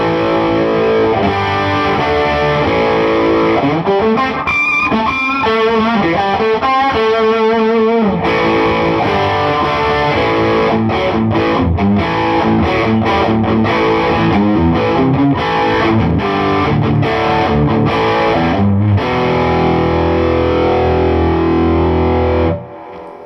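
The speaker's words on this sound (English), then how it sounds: "that's going to play a huge role when we distort the guitar, which I'm going to do now" Fender '70s Telecaster Custom played on the bridge pickup through the overdrive channel of a Fender Supersonic 22 amp with flat EQ gives loud, gritty distorted chords and riffs with sharp attack, continuous and without talk.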